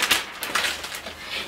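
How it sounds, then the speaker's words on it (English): Wrapping paper crinkled up by hand while gift-wrapping Christmas presents, a close, busy run of crisp rustling and crackling bursts that fills the whole moment. "I just crinkled up the paper like I didn't care"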